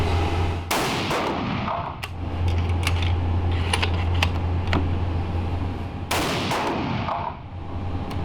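Loud 6.5 BC rifle shots with a 56-grain load ring out outdoors, two sharp cracks with echoing tails and mechanical clicks and rattles in between, over a steady low hum.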